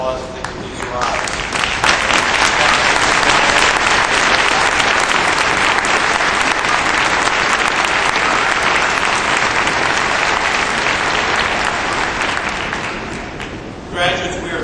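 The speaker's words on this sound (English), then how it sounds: "Let me just ask the faculty here to give them a round of applause if they could please rise." Sustained, loud audience applause at a 2002 UMBC commencement as faculty rise, dense clapping holding steady for about thirteen seconds before tapering off near the end.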